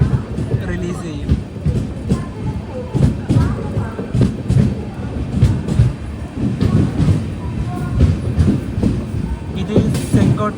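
At Chengottai station, a banker locomotive is uncoupled from the rear of an express train, with clanks and a rolling rumble of rail cars under steady nearby talk across the scene.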